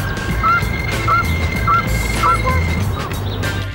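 Several short honking duck calls repeat at irregular intervals over a low rumble of outdoor background noise, fairly close and distinct.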